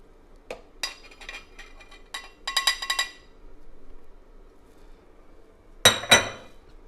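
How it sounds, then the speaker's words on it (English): Spoon clinking against a bowl while mixing a spice blend for halal cart chicken: a few light taps, a quick run of rattling clinks, a pause, then two sharp knocks near the end. "So let's get started by mixing our spice blend together."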